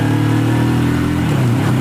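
Motorcycle engine heard while riding in cold weather on a mountain road near Lachen, a loud, close, steady drone with a slight pitch shift near the end.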